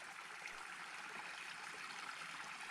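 A creek flowing in the Canaan Mountain Wilderness of Utah, near the Beehive, gives a faint, steady broadband rush of moving water, continuous and distant, with no voices.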